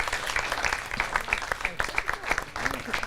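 A studio audience at a televised Holi celebration claps in welcome for a poet, with steady applause running under a speaking voice.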